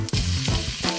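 Cumin seeds sizzle in hot oil in a pan while Indian food is cooked at home, a loud, steady close hiss with brief bursts of sharper crackle.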